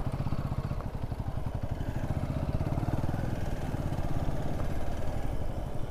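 A motorcycle engine runs on a road trip ride with a steady, rapid, throbbing putter that stays loud and close throughout.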